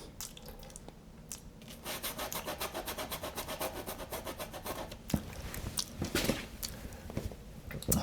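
A brush scrubs paint out of an aspen landscape painting in quick, rhythmic strokes, a close dry rubbing pulse that grows more irregular, with a few sharper scuffs toward the end.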